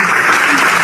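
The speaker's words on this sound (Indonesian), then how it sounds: "Tepuk tangan dulu kita semua" A gathering in Indonesia bursts into dense clapping, a loud, continuous round of applause filling the brief moment without a break.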